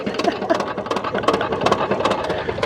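Old gas engines run at the Pioneer Harvest Fiesta steam and gas engine tractor show in Fort Scott, Kansas, giving a rapid, rhythmic chugging and clattering that pulses steadily at close range with no talk.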